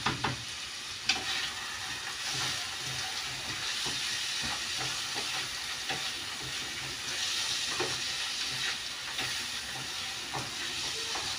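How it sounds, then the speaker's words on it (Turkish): Steady bubbling and sizzling hiss from chicken broth soup boiling in a pot on the stove, with occasional clinks and stirring knocks, close by and continuous. "Sonra da burada kaynıyor."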